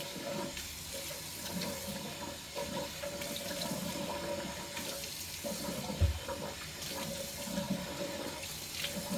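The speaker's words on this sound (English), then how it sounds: "So I'm going to go ahead and wash this off." Running tap water rinsing cleanser off a face at a sink, a steady faint splashing and trickling stream with a brief low thump partway through, no talking.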